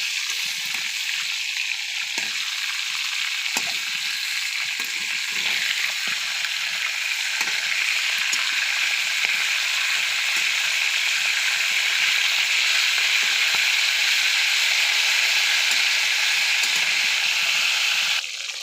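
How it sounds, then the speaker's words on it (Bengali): Meat pieces for a roast fry in hot oil, giving a steady, bright sizzle and crackle that continues evenly throughout with no talking. "রোস্টের মাংস ভাজা হচ্ছে, অনেক সুন্দর কালার হচ্ছে"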